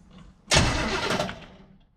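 A car engine cranks on its starter during a points-to-HEI ignition swap, a loud burst lasting about a second that then fades out, with quiet before it.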